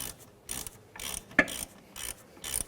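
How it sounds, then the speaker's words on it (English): A ratchet clicks in short bursts while snugging the bolts of a rear hub bearing on an Acura MDX, with quiet gaps between strokes and one sharper metallic tick. "we're just going to kind of pre-tighten these, get them snugged up"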